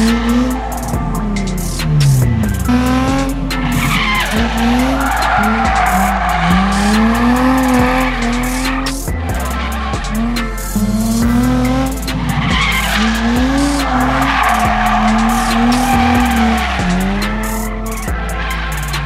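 A car drifts repeatedly, its tires skidding and squealing in long wavering howls over a loud, revving engine, with brief pauses between passes as the screeching returns again and again.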